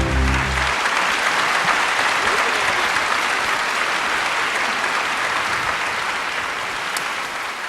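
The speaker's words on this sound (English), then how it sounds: "Please give him a big round of applause." Sustained applause from a conference audience for a speaker taking the stage at a forum on economics and AI, a dense, steady clapping that fills the room throughout and eases slightly near the end.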